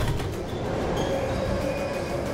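A metro train passes in an animated French children's cartoon, making a steady, dense rolling rumble with a faint high whine that holds evenly throughout, close and loud, with no talking.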